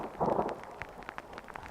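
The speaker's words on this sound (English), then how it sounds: "hearing thunder." Thunder from a storm overhead rolls in as a short, heavy rumble, followed by scattered patter like rain on a surface.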